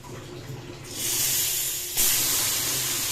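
Onion paste hits hot oil in a kadai with a sudden loud hiss that settles into a steady sizzle, followed by a second surge of sizzling as more is added.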